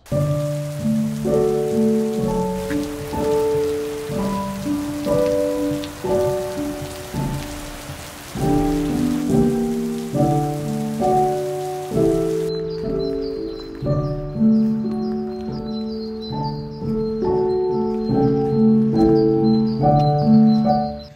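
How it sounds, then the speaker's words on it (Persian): Heavy rain falls in Stockholm as a steady, dense hiss that persists throughout, with tonal background music layered over it. "ببین چه بارونی زد."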